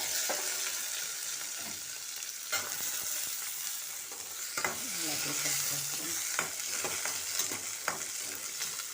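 Onion and garlic sauté in a hot pan for a stingray fish curry, a steady sizzle and frying hiss running throughout with intermittent scraping and stirring clatter of a spoon against the pan.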